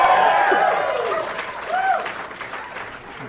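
Live audience at an in-person podcast Q&A breaking into applause, a brief burst of clapping and cheering that fades out over a few seconds, with voices faintly over it.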